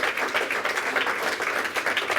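A church congregation applauds during a morning service, a dense, even patter of many hands clapping, fairly close, with no voices over it.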